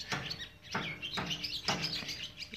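Bright, repeated bird chirps in quick bursts, fairly close, with a few clucking calls mixed in and no voices, at Star Island in a cold breeze.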